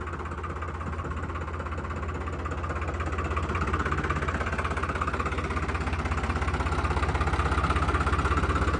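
A 3630 TX Super Plus tractor's engine idles with a steady low throbbing hum and faint knocking pulse, close and even throughout, slowly swelling a little in loudness, with no voices.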